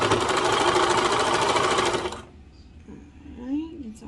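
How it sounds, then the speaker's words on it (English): Cover stitch sewing machine running along a seam on a raglan pajama top, a fast close mechanical whirring hum for about two seconds that then stops, leaving quiet room noise. "you do have to kind of sew blind with the cover stitch"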